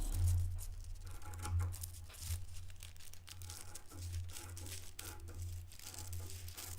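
Scissors cut through paper sewing pattern pieces, giving soft crinkling and snipping sounds in irregular bursts over a low steady hum, close and quiet.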